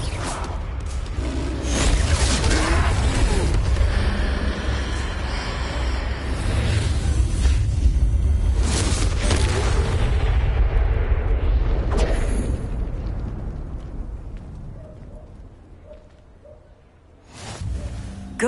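Confringo fire spells explode during a troll fight in the Hogwarts Legacy game on PlayStation 5, a loud, dense run of blasts and whooshing bursts that swells, fades toward the end, then flares up again.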